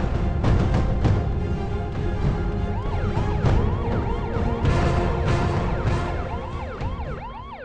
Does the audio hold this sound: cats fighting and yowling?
no